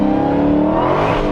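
An 840 hp Dodge Demon drag car's engine revs hard close up, a loud, steady, buzzing roar held for a brief moment.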